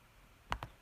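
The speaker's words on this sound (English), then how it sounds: "I'm going to click on create" Two quick, crisp mouse clicks about a tenth of a second apart, close and clear against a quiet background while pressing a create button on a computer.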